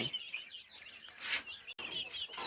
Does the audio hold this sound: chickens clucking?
yes